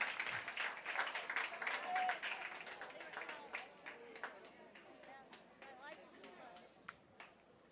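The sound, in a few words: crowd clapping at a baseball game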